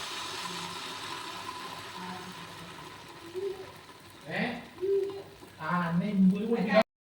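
Irani pola egg batter, half the batch, poured into a heated pan and sizzling moderately under a steady background hum, with a few louder clattering bursts near the end.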